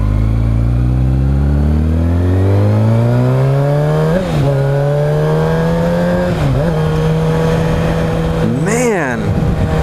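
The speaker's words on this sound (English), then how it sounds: "Man, the motorcycle is running so smooth after an oil change." A Kawasaki ZX6R motorcycle engine, just back from an oil change and maintenance, revs up loud and close, the pitch climbing through gears, then dipping and surging again in several sharp throttle blips.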